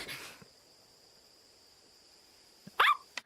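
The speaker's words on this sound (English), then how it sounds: "the beast barking is what starts the fight" A beast in an anime fight scene gives a single sharp, loud bark near the end after a long, quiet, tense stretch with only a faint high whine, followed by a brief softer sound.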